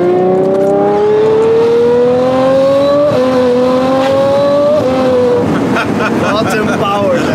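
A Novitec-tuned Ferrari 812 Superfast V12 revs hard and close, its pitch climbing in long sweeps then dropping back, with voices talking over the roar.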